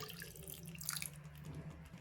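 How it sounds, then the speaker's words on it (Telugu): Water runs and splashes steadily for a couple of seconds, quiet and close, poured into a pan of paneer butter masala gravy. "ఇప్పుడు ఇందులోకి కొన్ని వాటర్ యాడ్ చేసుకోండి"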